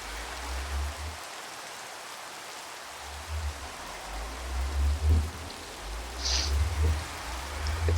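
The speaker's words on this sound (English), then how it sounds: "It's raining" Rain falling in a modded video game, a steady hiss of downpour with low rumbling patches and a brief higher splash partway through, with no talking.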